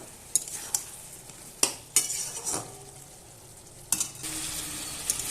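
Chicken sautés in a pan while a utensil stirs and scrapes it, several sharp metallic clinks over a low, steady sizzle, no voices.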